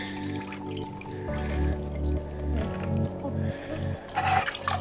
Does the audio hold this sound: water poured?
yes